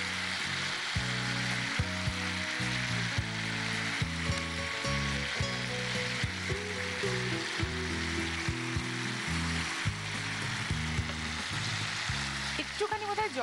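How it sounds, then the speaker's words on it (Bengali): Fried fish pieces dropped into a spice paste in a pan give a steady, close sizzle that runs through the whole stretch, with a voice talking over the cooking. "এবার এই ভাজা মাছগুলোকে এটার মধ্যে ছেড়ে দেবো।"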